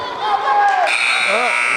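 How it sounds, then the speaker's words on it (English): A loud, steady electronic buzzer sounds at the end of a period during a high school wrestling match between Titusville and Cochranton, holding a sustained tone over crowd noise and commentary in an indoor gym. "Okay, Boozer managed to escape right at the buzzer for 1."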